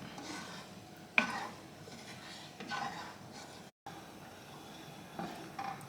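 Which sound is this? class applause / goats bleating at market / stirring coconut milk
stirring coconut milk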